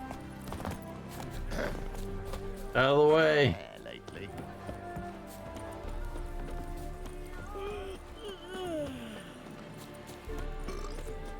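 Horse hooves clip-clopping in The Witcher 3, running beneath steady talk and game dialogue, with a shouted voice and a brief loud burst near the start.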